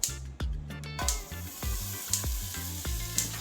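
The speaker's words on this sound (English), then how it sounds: "I will now go ahead and add some butter." Butter sizzling in a pot while steamed fish in coconut milk is being cooked Jamaican style, a close, steady hiss broken by several sharp knocks and clatters of utensils against the pot.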